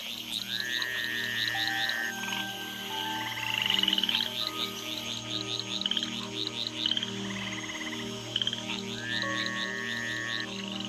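A chorus of tree frogs calls after rain, with repeated trilling and whistling notes overlapping in a dense, continuous rhythm, some voices close and others farther off.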